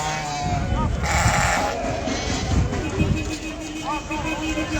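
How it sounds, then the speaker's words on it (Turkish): Lambs bleat a couple of times amid a noisy crowd of people talking and general bustle at the Akhisar livestock market. "Kuzular ne kadar?"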